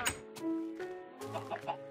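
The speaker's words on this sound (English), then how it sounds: "Yeah, come on, chicken." A Minecraft chicken gives several short, bright clucks in quick succession, close and fairly soft, within a game-world farm setting.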